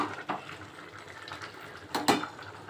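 Biryani rice is stirred in a metal pot and a lid is set on top, giving faint scraping and a few soft clinks, then two sharper metallic knocks near the end.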